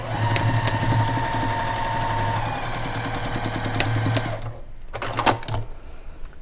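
A sewing machine stitches a quarter-inch seam on a quilt block, a fast, steady mechanical whir and rapid needle clatter that runs for several seconds, then stops, followed by a few light handling clicks.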